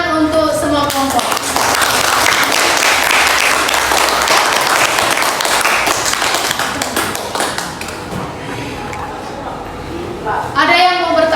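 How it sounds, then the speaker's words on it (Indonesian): Classroom clapping from a group of students, loud and dense, sustained for several seconds before fading, with voices rising at the start and end. "tepuk tangan untuk semua kelompok"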